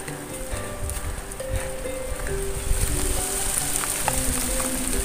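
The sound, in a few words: rain starting to fall at a tea plantation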